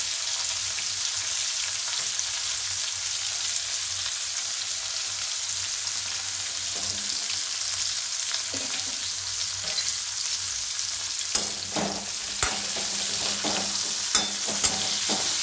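Tinda and sweet corn pieces fry in hot oil in a pan for a vegetarian curry, giving a steady, dense sizzle with a few clinks of stirring toward the end.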